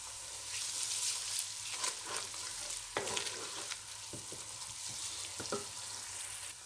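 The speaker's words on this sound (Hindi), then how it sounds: "और इसको भी तब तक भूनेंगे जब तक इसका कच्चापन दूर हो जाए।" Ginger garlic paste fries in a pan for kofta chana masala, with steady close sizzling and occasional scraping and stirring clicks.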